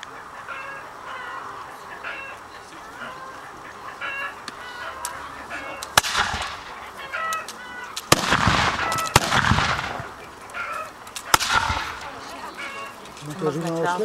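Musket volleys at a Napoleonic battle reenactment: several sharp, distant bangs go off one after another amid constant crowd chatter, with cats meowing and fowl calling nearby.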